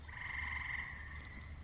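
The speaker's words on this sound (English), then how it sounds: "There's a frog." A frog croaks in the game Mudborne, one sustained, steady call with a bright tone held for over a second, moderately loud and alone with no talking.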